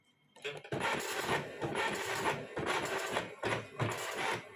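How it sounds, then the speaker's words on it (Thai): An OKI Microline 390 Turbo dot-matrix printer prints out its settings, producing close, loud, buzzing rasps in repeated line-length bursts with short pauses as the print head sweeps back and forth. "ตัวเครื่องโอกินะครับ จะพิมพ์ค่า ที่ตั้งเอาไว้นะครับ"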